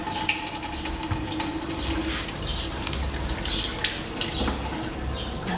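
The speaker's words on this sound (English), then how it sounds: "just give it a quick rinse." Tap water runs steadily over an organic lemon being rinsed at a kitchen sink, a continuous close splashing hiss with small shifts as the fruit moves through the stream.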